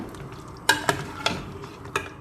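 Onion and tomato masala being sautéed with mutton in a pot, heard as close, crisp scrapes and knocks of a spoon, about five sharp strokes over a soft, steady sizzle.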